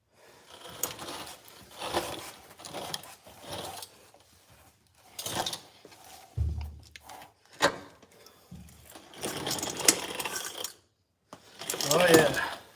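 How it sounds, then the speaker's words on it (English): A Ford Ranger exhaust is welded in a shop: close, crackling bursts of arc noise come in several short runs separated by pauses, with a voice heard now and then. "We can go ahead and weld her up."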